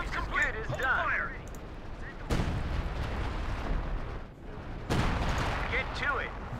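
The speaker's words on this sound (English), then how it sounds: "batteries report barrage strikes now available in your sector." In a Company of Heroes 2 battle, an artillery barrage strikes with heavy booming detonations at irregular intervals, two especially sharp blasts standing out, while voices shout over the rumble.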